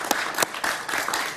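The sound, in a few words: studio audience applause for a guest on a TV show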